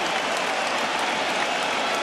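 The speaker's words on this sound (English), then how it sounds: "This crowd is on its feet in appreciation." A large arena crowd at UFC 206 applauds after a fight, with dense, steady clapping and cheering filling the space loudly and evenly throughout, no pauses or voices standing out.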